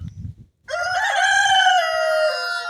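A single rooster from a backyard laying flock crows once, loud and close, in one drawn-out call after a brief low rustle and a short silence, with no speech.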